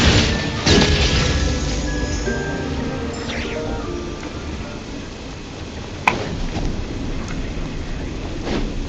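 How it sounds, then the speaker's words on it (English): Thunder rumbles and cracks in the game Genshin Impact amid steady rain-like game noise, with one sharp strike standing out midway and no talk. "Oh, thunder!"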